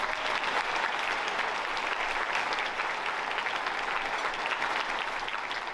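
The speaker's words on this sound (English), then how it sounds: "Can we give them one more round of applause," A luncheon audience gives a sustained, dense round of applause, steady and loud throughout with no break, a crowd clapping together in a large room.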